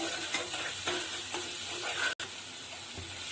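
Spice masala with Kashmiri chili powder and salt fries in oil until the oil separates, giving a continuous close hiss and sizzle with soft stirring scrapes and a brief cut near the middle.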